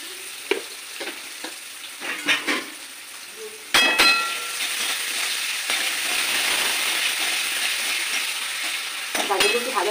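Vegetables, carrots with salt added, stir-fry for restaurant-style chowmein in a pan. A steady sizzle sounds under sharp clangs and scrapes of a spatula on metal, and the frying gets louder partway through.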